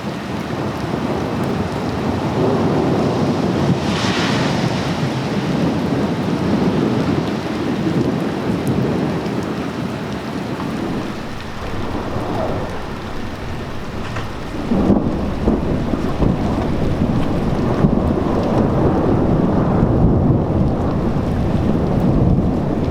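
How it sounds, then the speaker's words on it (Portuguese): A heavy thunderstorm during a supercell in Roswell, with steady loud rain and rumbling thunder rolling through, one burst near the middle, a dense continuous roar with no voices. "seguimos para o hotel debaixo de muita trovoada e muita chuva."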